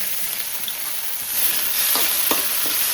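Onions and tomato frying in a pan for vegetable noodles, a steady bright sizzle with occasional stirring scrapes and clinks growing slightly louder partway through, close by with no talking.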